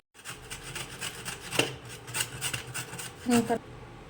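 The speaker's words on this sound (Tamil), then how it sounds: "நம்ம இந்த கேரட்டையும் பீட்ரூட்டையும் நம்ம துருவி எடுத்து வச்சுக்கலாம்" Carrot being grated by hand, a close series of rough rasping strokes in an uneven rhythm, each stroke a short gritty scrape, with no talking.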